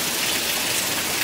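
Heavy rain pours down steadily in Kerala, a loud, even hiss of drops hitting surfaces that fills the whole moment without pause.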